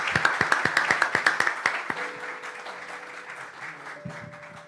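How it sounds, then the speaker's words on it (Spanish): An audience gives a speaker a welcoming round of applause, crisp and close at first and then thinning out into scattered claps. "démosle un gran aplauso"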